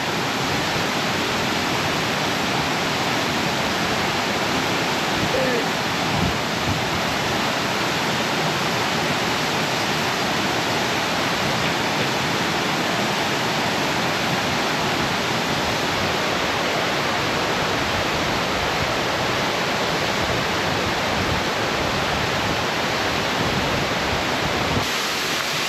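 The Cascata dei Papalini waterfall, heard from the ledge behind its falling curtain in the woods, pours as a dense, constant, loud roar with no pauses or voices.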